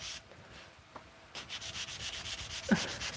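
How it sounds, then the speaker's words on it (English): Fine, nearly gritless sandpaper rubs against copper in close, repeated scratchy strokes with a soft rasping rhythm, quiet and without talk. "these pieces of sandpaper almost have no grit to them. So it's really just grabbing at the copper"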